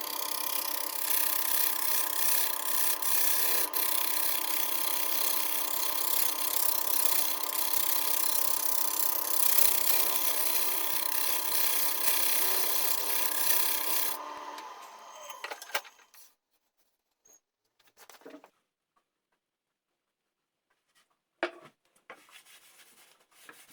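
A wooden bowl spins on a lathe as its inside is turned concave, with a steady whirring, rasping tool noise for about fifteen seconds, then it winds down to quiet with a few knocks.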